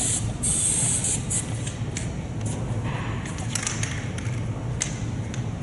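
Short hissing bursts of spray lubricant applied to the jack stand of a snow plow, several quick sprays in a row, close and fairly quiet.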